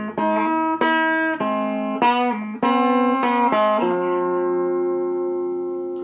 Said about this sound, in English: Now he also plays another lick, similar lick, during the song